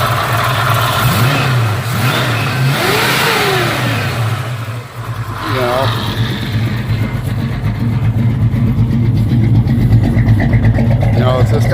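A 1982 Pontiac Firebird S/E engine drones loudly throughout, its pitch rising and falling with revs, a steady deep exhaust rumble underneath.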